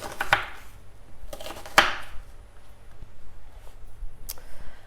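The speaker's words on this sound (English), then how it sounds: "So just cut your onion in half." A knife cutting through an onion on a board, two distinct crunchy cuts followed by a lighter tap, close and fairly quiet.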